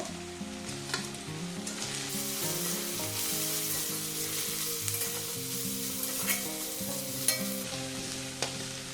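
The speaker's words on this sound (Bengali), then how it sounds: "এইভাবে আমি সব ভাজতে থাকবো গাজরটাও দিয়ে দেবো একটু নরম করে খালি ভেজে নেব" Onions, carrot and other vegetables sizzle and fry in a pan for a spring roll filling, with a steady, moderate crackle and occasional stirring scrapes, and no talking.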